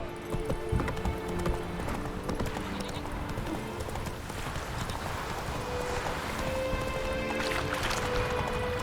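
Geralt's horse Roach galloping in The Witcher 3, a rapid steady clip-clop of hooves running throughout, with game ambience and tonal music cues mixed in.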